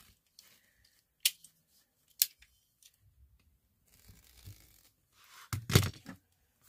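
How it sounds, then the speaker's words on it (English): Scissors snip a piece of craft mesh in a few sharp, isolated cuts, with a denser burst of cutting and crinkling near the end, close up and otherwise quiet. "I'm going to cut it about 8 inches and 8 inches long"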